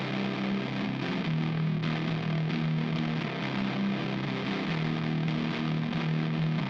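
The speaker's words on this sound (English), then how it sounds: "So the first one is gonna have Guitar Rig 7 with the Super Chainsaw 100 preset." Heavily distorted electric guitar through a Guitar Rig 7 Super Chainsaw 100 preset, low end cut, playing sustained droning chords in a heavy shoegaze/nu metal style, thick and loud with no voices.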